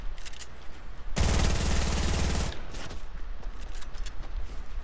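Loud burst of video-game gunfire in Fortnite, a dense rapid volley lasting over a second between quieter stretches with faint clicks and game ambience.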